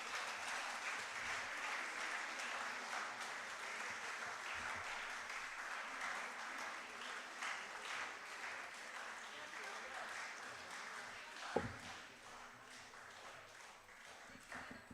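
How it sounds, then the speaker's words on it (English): Faint, sustained applause rises from an audience at a medical college physiology conference in honour of students and faculty, a continuous patter of many hands lasting the whole stretch, with one brief sharp knock near the end. "So they deserve a huge round of applause."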